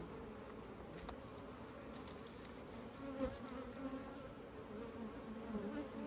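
Honeybees buzz steadily from an opened hive during a colony split, a dense close hum of many wings that holds throughout with slight swells, with no speech.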